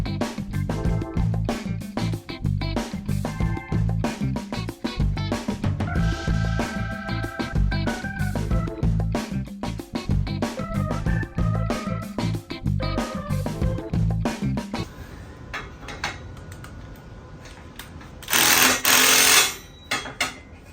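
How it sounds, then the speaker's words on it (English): Welding metal parts for a removable engine run stand for a Hemi: a rapid buzzing, crackling welder arc heard close up in repeated bursts, then a brief louder hiss near the end. "let's go ahead and weld that."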